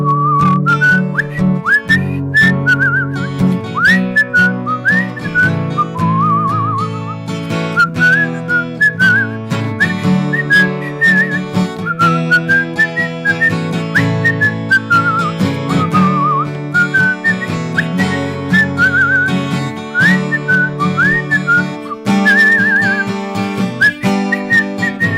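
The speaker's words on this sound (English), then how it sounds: "I'll do a whistle." A person whistles a melody with clear sustained notes and a few trills, heard close over a steady instrumental backing track.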